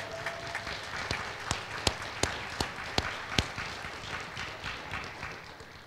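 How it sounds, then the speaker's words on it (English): Sparse, scattered clapping from a small audience at a spring university robing ceremony, a handful of sharp individual claps standing out over a quiet, roomy background. "You go ahead and clap."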